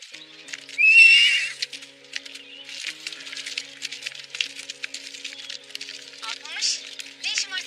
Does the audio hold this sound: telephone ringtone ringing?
no